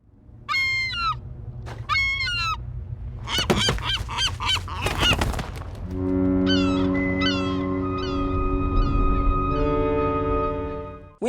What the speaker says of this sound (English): This seagull really gets on Winslow's nerves